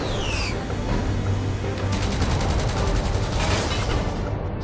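Troops firing guns in the Iron Man video game: loud, dense bursts of rapid automatic gunfire and sharp crackling shots over a rumbling background, intensifying toward the middle and end.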